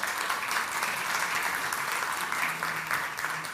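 A symposium audience at the National Assembly gives sustained applause, a dense, even patter of many hands from a hall-sized crowd that stays level for several seconds, faint murmurs underneath.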